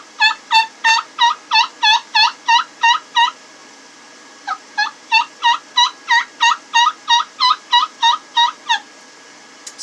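A turkey call imitates an assembly or lost hen yelp, two long runs of evenly spaced, loud, close yelps with a short pause between them and no talk over them.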